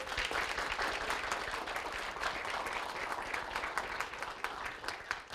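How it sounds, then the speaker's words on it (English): An audience at a student project showcase applauds the students, a sustained round of many hands clapping with distinct sharp claps poking through, fairly close and steady throughout. "a round of applause to all of our students"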